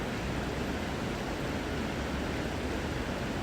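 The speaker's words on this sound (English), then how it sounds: "I'm sitting by a river, which you probably can hear" A river rushes and flows as a dense, constant wash of water noise, loud and even throughout with no other sounds on top.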